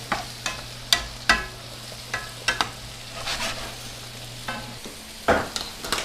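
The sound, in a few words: stirring winter squash with thyme cooking in a pan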